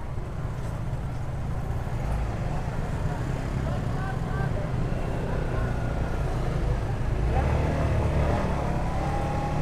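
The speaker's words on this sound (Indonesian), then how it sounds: "Banyak banget motor." Many motorcycles in busy traffic at Cepogo market during a fire there, a dense steady engine drone with passing bikes revving nearby and people talking over it.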